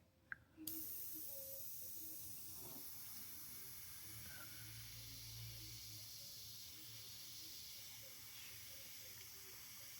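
Airbrush spraying Createx paint onto Blair synthetic paper, a steady close hiss of air and paint running nearly the whole time after a short click at the start, with no talk over it.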